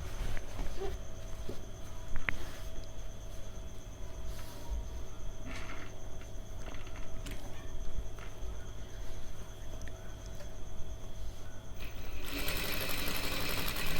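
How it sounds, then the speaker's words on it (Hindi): A sewing machine stitches tuxedo fabric in a fast, steady whirring run with a faint mechanical rattle. It continues through the whole stretch and grows louder and busier near the end, with no speech. "इसकी जड़ में हम इसकी सिलाई मार देंगे"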